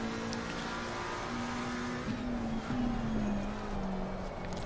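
A McLaren 720S EVO race car at Bathurst's Mount Panorama circuit in the ACC racing game, its engine note held steady, then stepping up through gear changes as it powers out of a corner, alone and fairly faint.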